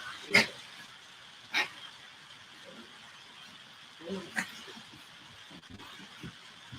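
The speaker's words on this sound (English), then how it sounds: "Be quiet, dogs." Dogs barking in short separate yips and barks, three or four sharp bursts spread over several seconds, moderately loud with faint background noise.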